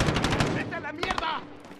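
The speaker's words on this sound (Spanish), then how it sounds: "¡Están disparando!" Rapid bursts of automatic gunfire from the video game Call of Duty: Modern Warfare, loud and close, arriving as clustered sharp cracks with a shouted voice mixed in around them.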